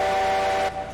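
A loud three-chime steam locomotive whistle in the game Railroads Online, a sustained chord blast that cuts off abruptly near the end, followed by a low rumble.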